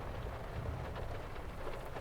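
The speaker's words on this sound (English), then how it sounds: "I like the rain." Rain falling on a car during a thunderstorm, a soft, steady wash of patter heard from inside the vehicle, faint and continuous.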